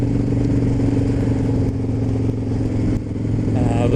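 A Harley motorcycle engine runs steadily through a springtime ride on fresh gasoline, a loud continuous low rumble with wind noise, the pitch shifting slightly near the end.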